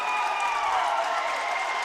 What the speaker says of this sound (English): You can hear the Hardin-Simmons crowd roar.